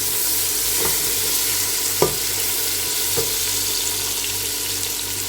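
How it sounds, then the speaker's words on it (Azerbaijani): Onion and pepper frying in a pan at home, a steady close sizzle throughout with a few soft clicks of stirring. "Soğanla biberi qovururam."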